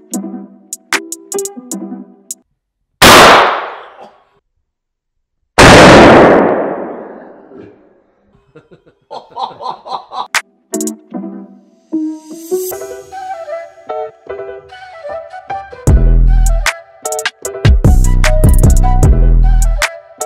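Gunshots ring out on a shooting range in Poland, two loud, isolated blasts with long decaying tails, separated by seconds, amid music and other sounds, with a person talking in between.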